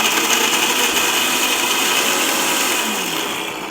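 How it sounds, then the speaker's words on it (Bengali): A steady, loud electric grinder whirs continuously while mango is ground to a paste for aam makha, its motor tone holding even and slowly easing off near the end. "এই যে এখন বেটে নিচ্ছি।"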